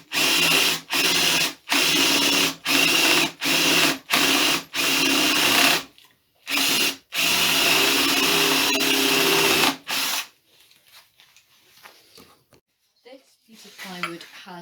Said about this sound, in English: that is going to be where I drill the holes for the dogs to go